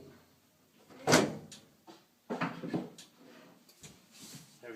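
A furnace access door being fitted back into place after blower and control board work, giving a few dull knocks and clunks, the loudest early on, then several softer bumps, with no talking.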